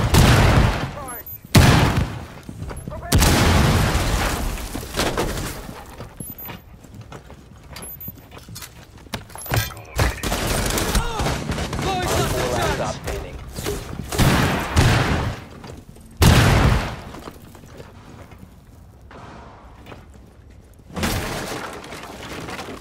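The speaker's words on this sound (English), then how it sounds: "Cluster charge deployed" Fuze's cluster charge going off in Rainbow Six Siege: a string of sharp, heavy blasts in close succession that burst out repeatedly over dense game noise, with combat voice lines spoken throughout.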